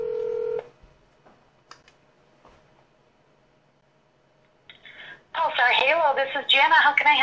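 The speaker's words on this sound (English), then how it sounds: "So I'm calling 1-855-DIY-HALO." Telephone dialing over a speakerphone starts with a loud tone burst, then a long, near-silent wait with faint clicks, and ends as loud speech comes through the speaker.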